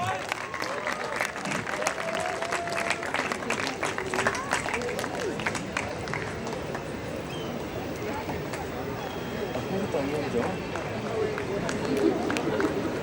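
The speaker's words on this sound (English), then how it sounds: "Please give them a round of applause." Sustained clapping from an audience, dense and steady throughout, with crowd murmur and a voice mixed in.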